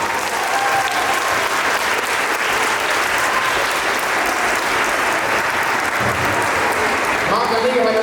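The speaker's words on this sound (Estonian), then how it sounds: "tehke endale hea publik ja kõikidele osalejatele üks suur aplaus" Loud, continuous audience applause for participants at a 2019 school dance competition, a full hall clapping steadily throughout with crowd noise underneath.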